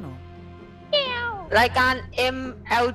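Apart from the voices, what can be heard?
cat meowing in the room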